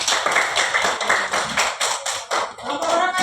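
A classroom of students claps together in applause for a group presentation of Arabic calligraphy, producing loud, rhythmic bursts of clapping close by.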